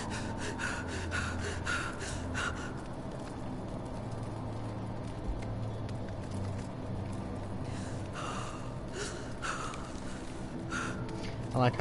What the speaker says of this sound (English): I like how you hear him breathing whenever he had his mouth shut.